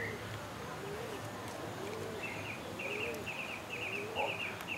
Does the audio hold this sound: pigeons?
yes